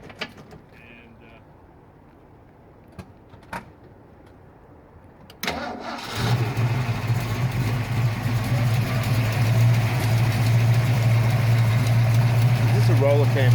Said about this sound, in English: Is this a roller cam engine?